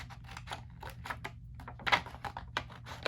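Scissors snip through cotton linen fabric cut into sections, a quick irregular series of close, crisp cutting sounds over a faint low hum.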